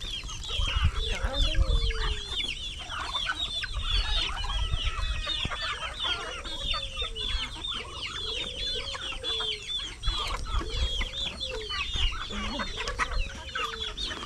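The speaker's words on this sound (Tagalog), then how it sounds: "Gusto naman ng mga manok." A flock of chickens clucks steadily and busily while eating eggplant soaked in molasses, with overlapping close clucks and occasional louder calls over a low outdoor background.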